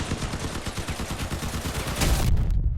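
Cannon fire from armed vehicles in Crossout's Mad Max–style combat: a steady run of rapid, loud repeated blasts that swells into a heavier, denser burst near the end, then cuts off.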